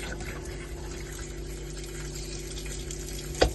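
Steady water rushes through a tap with a constant hissing flow and a low pump hum underneath, ending in a brief clunk.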